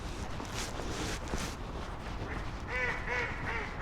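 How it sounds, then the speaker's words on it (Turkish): A few short nasal quacks from a female duck toward the end, fairly faint and distant, over steady outdoor background noise by flowing water in Germany. "Ördek sesi."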